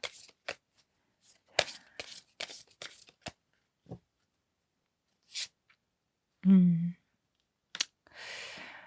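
Tarot cards shuffled and drawn at a quiet table, giving sparse, close flicks, snaps and slides separated by silences, with a brief voiced sound near the end.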